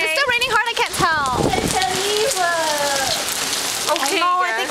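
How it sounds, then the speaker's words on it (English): Rain falls steadily outdoors, a constant pattering hiss beneath people talking and singing close by, continuous from start to finish. "Is it still raining hard?"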